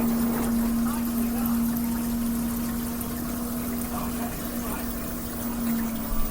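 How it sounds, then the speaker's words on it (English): Water drains from an LG WM3600HWA front-load washer on its final spin, with a constant pump drone under a soft, steady pour and trickle, heard up close. "And it sounds like a draining sink."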